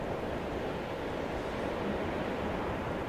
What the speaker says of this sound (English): And there, the sound of the ocean as they just float across.